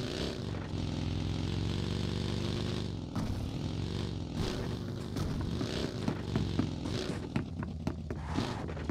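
Motorcycle engine in the video game PUBG, a steady loud drone for the first three seconds, then a rougher, fluctuating revving with clattering bursts through the rest.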